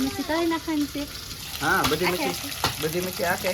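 Small fish fry, crackling and sizzling steadily in oil in the background while a person talks over it in short bursts.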